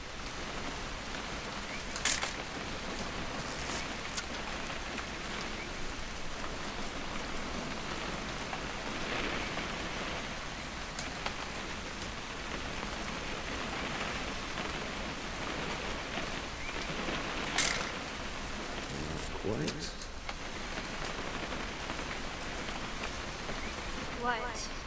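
Steady, dense rainfall in the video game What Remains of Edith Finch, a continuous hiss of drops on surfaces lasting throughout, with a few sharper spikes, and voices speaking quietly over it.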